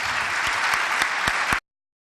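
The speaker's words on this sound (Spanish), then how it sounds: "Así que le voy a pedir un aplauso para Lee por la presentación que nos hizo." An audience claps steadily for a presentation on confined livestock housing and animal welfare, a short burst of close, even applause that stops abruptly.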